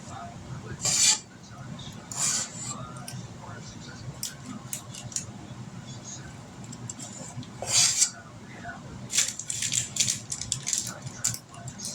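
Metal cookie baking pan handled while chocolate chip caramel cookie dough is portioned onto it, with intermittent scrapes, light clinks and rattles spread across the stretch over a low steady background hum.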